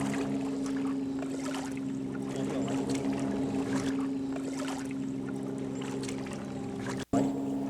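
A lightweight pedal-driven coroplast kayak moving steadily through water, with a constant low mechanical hum, soft splashing and light wind noise, ending with a brief dropout and a bump.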